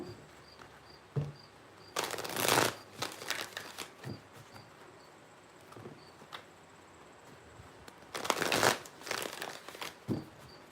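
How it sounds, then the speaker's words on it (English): Crickets chirp outdoors beyond an open garage door on a hot night, a faint steady high trill running throughout, broken by louder rustling and handling noises. "Do you hear the crickets?"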